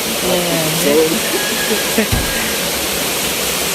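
Hot spring water at Panicuason Hot Spring Resort in Camarines Sur rushes in a steady, loud broadband roar, with a voice speaking briefly over it early on.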